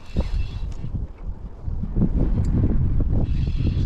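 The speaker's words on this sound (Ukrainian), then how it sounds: "Вітер страшний" Strong wind buffets the microphone while fishing, in a heavy, continuous low roar with gusts that swell louder toward the end.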